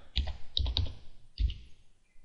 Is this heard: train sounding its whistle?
no